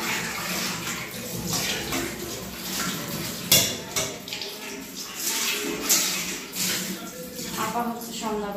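Dishes and pots being washed under a running tap in a home kitchen, with steady water flow and intermittent clinks and clatters of metal and crockery, while a voice talks over it.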